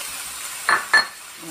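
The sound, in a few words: onion and shrimp sautéing in a hot pan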